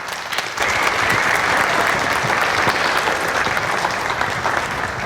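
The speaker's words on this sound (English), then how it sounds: "A big round of applause for our panelists." A panel discussion audience bursts into applause for the panelists, a full, steady round of many hands clapping that starts abruptly and holds evenly, close and loud.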